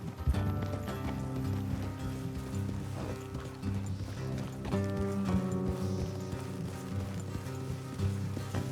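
Horses clip-clopping along on a dirt road, hooves steady and fairly close under a loud, continuous bed of music.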